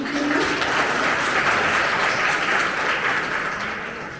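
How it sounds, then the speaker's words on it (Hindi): An audience at a Harivansh Rai Bachchan birth anniversary poetry event applauds a performer with sustained, dense clapping that holds steady before gradually thinning toward the end. "जोरदार तालियां"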